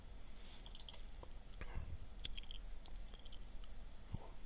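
Computer mouse clicks at a desk while working in slideshow software, a few sparse, quiet, sharp clicks over a soft room hiss, with no talking.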